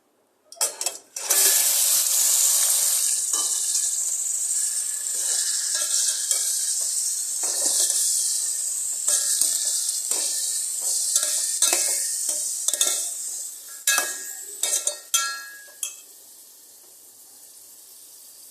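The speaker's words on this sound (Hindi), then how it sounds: "गरम हो गया है। अब हम इसमें चिकन ऐड करेंगे।" Half a kilo of small chicken pieces hit hot oil in a karahi for a green chicken recipe, giving a loud, steady sizzle and crackle that runs nearly throughout, with scraping stirs and clatters breaking in toward the end as it settles down.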